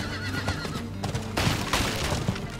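A horse whinnies while being ridden in Diablo 4, the neigh rising over muffled hoofbeats and game ambience, with no talking.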